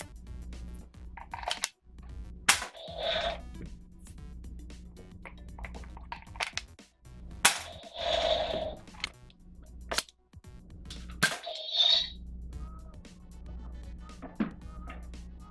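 A toy gun fires at Uwantme electronic shooting targets, producing a series of sharp, separate clicks and snaps spaced irregularly, with a few target pings and a background hum.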